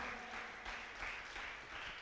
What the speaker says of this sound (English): Why don't we clap our hands and give God glory and praise